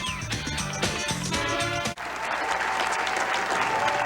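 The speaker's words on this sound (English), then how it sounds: "An enthusiastic crowd waving and shouting." Music plays for about two seconds, then cuts to an enthusiastic crowd at the 1997 PBA Touring Players Championship in Harborville, Pennsylvania, cheering and applauding in a loud, continuous wash.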